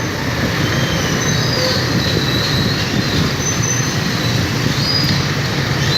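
Heavy morning traffic in Saigon, heard from a motorbike, roars as a loud, continuous rumble with a faint high squeal running through it and no pauses.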